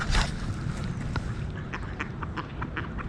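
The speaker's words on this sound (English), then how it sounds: "Look at these cute ducks here." Ducks quacking in a large park in Bucharest, a series of repeated quacks from several birds at moderate distance over steady outdoor ambience.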